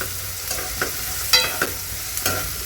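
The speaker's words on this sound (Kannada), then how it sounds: "ಇನ್ನೊಂದು ಸಲ ಚೆನ್ನಾಗಿ ಫ್ರೈ ಮಾಡ್ಕೊತಾ ಇದ್ದೀನಿ." Vegetables fried and stirred in a pan over steady sizzling, with about five distinct scrapes and knocks of the spoon against the pan at uneven intervals, close and clear, no voices.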